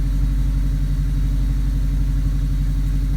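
A turbocharged Subaru EA82T flat-four idles steadily under closed-loop idle control on a Megasquirt MS3x setup, a loud, even low burble with a regular pulsing rhythm and no revving.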